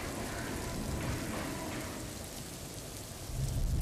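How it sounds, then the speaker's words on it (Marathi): Steady heavy rain falls in Mumbai, a dense continuous hiss of drops on surfaces with a low rumble swelling near the end, no voices. "तर मुंबईत पावसाची संततधार सुरू आहे"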